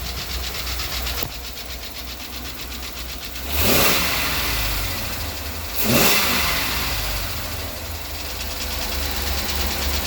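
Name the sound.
engine knocking noise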